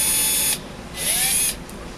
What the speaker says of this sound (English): Go with slow speed, heavy feed, not too much pressure because you could snap that drill bit.